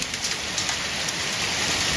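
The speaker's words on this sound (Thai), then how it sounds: "ได้ยินนี้ไม่ใช่เสียงฝนนะคะ เป็นเสียงลูกเห็ดค่ะ" Hailstones drum down in a heavy downpour in a thick, unbroken clatter, a bright hiss of impacts with occasional louder taps, constant in level and free of speech.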